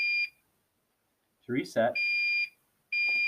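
A fire alarm control panel sounds in alarm with a steady, loud electronic beeping tone that stops briefly while someone speaks, then resumes.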